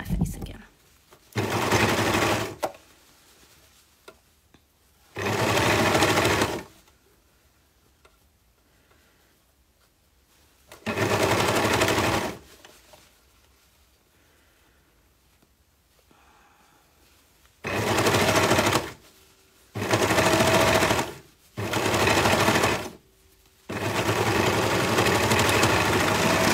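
A sewing machine stitches fabric for overalls in short bursts, with about seven loud runs of rapid stitching separated by quiet pauses and a longer run at the end.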